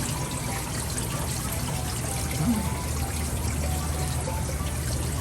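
Water steadily flowing and circulating in a tilapia nursery tank, a constant pouring wash with no breaks, close and fairly loud.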